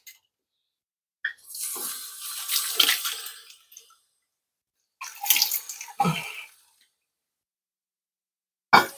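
Water splashes in bursts as a man wets his face at a sink before a wet shave, two longer runs of splashing and a brief final splash, close and fairly loud, with silence between.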